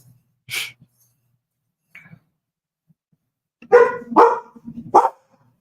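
A dog barks at a loud passing pickup truck: one short bark, a faint pause, then three loud barks in quick succession close by.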